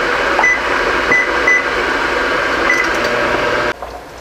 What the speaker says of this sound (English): we're gonna put this in a microwave.